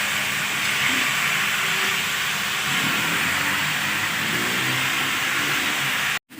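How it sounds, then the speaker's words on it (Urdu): Mutton sizzles in hot oil and ghee: a steady, loud, dense frying hiss that carries on without a break and cuts out abruptly near the end. "اچھی طرح سے مٹن کو فرائی کر لیں گے"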